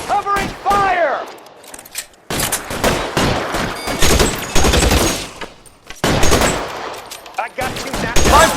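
Shootout in an L.A. Noire video game, with bursts of rapid gunfire and heavy shots cracking in loud clusters separated by short pauses, mixed with shouted voices.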